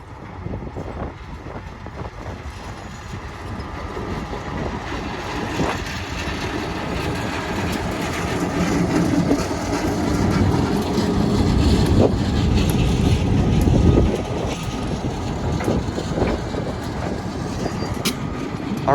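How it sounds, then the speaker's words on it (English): A BMP freight train rolls along the line at Lake Avenue in Blasdell, New York, its rumble and wheel clatter swelling as it nears, peaking, then easing off while still passing close by. "we got a BMP train coming down the line"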